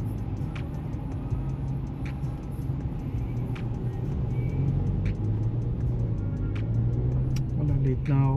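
Road traffic is heard from inside a car stuck in heavy city congestion, a steady engine and tyre rumble with a regular ticking like a turn signal throughout, while someone talks over it.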